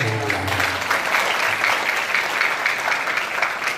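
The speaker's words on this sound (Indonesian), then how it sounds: "tepuk tangan itu gampang" Steady, dense applause from a large audience at a religious gathering continues evenly for several seconds, with no pause.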